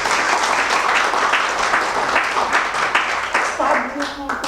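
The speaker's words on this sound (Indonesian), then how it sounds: "Tepuk tangan buat Tuhan" Congregation clapping during a Sunday worship service in a church in Indonesia, a dense sustained applause that stays loud throughout, with voices mixing in toward the end.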